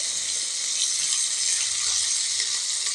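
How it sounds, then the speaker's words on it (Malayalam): Anchovies fry in coconut oil over a low flame, giving a steady, dense, hissing sizzle close to the pan with no talking. "നന്നായിട്ട് പൊരിച്ചെടുക്കും ലോ ഫ്ലെയിമിലാണ് വയ്ക്കുന്നത് കേട്ടോ"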